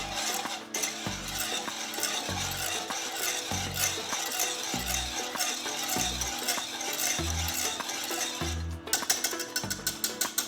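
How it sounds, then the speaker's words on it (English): Orange chicken sauce whisked in a bowl, the whisk scraping and tapping against the sides in steady repeated strokes, close and fairly loud, with a few sharper clinks near the end. "Whisk this all together."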